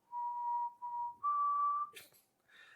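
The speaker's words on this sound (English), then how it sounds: "I would whistle taps" A person whistles the bugle tune taps, three clear sustained notes in a rising pattern, fairly faint and alone, followed by a brief rustle and click.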